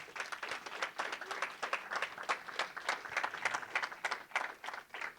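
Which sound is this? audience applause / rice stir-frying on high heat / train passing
audience applause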